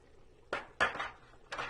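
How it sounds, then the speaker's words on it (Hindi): Tomatoes drop into a cooking pot for balti gosht with three short, soft clatters of pot and utensil, spaced unevenly, close and quiet in an otherwise still kitchen. "ये टमाटो हैं ये डाल देने आपने"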